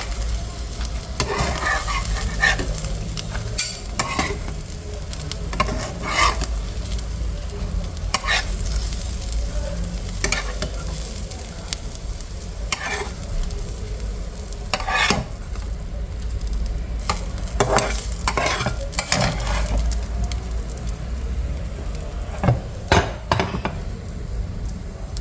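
Eggs fry in a hot pan on an outdoor stove and are stirred and scraped repeatedly with a spatula, giving a steady sizzle broken by regular clinking strokes.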